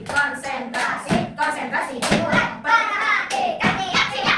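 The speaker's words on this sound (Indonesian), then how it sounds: "Siapkan, kita tepuk konsentrasi dulu sebelum mulai pembelajaran" A primary school class performs a rhythmic concentration clap in a classroom, bursts of hand claps in a patterned sequence with children's voices chanting along between and over the claps.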